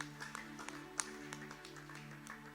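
A church congregation claps along in a steady, quick rhythm, the claps faint and distant over a low hum, with no talking heard.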